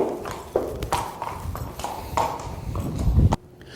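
A horse's hooves clop on the ground as it is led to a round pen, with several distinct irregular strikes close by and some background noise, ending abruptly.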